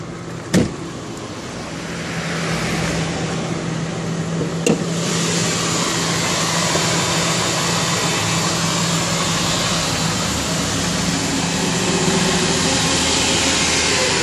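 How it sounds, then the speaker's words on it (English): A 1998 Ford Expedition idles with its hood open, a steady close engine drone with a faint hum, broken by a couple of sharp clicks near the start and another midway. "I'm gonna show you the engine."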